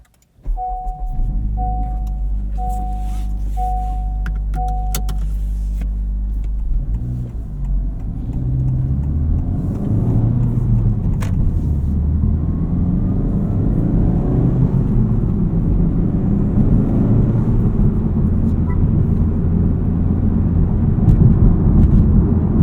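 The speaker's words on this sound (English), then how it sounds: "Let's hop inside, start up the Type R, take it for a drive" FL5 Honda Civic Type R on RE-71RS track tires: a few electronic chimes, then the engine fires up and settles into a steady low drone of driving with continuous road and tire noise.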